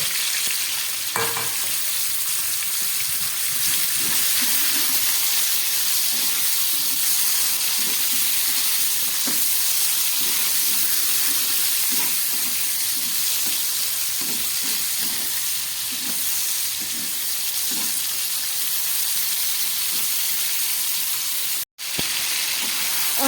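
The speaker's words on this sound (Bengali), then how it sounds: "তেল গরম হয়ে গেছে আমি এর মধ্যে হালকা করে একটু মাশরুমটা ভেজে নেব" Button mushrooms fry in hot oil in a wok, giving a steady, close sizzling hiss with scattered crackles and faint stirring scrapes, no talking.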